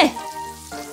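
Lean pork hits a hot wok with garlic, ginger and dried chili, letting out a short, loud sizzling burst that quickly settles into a softer fry.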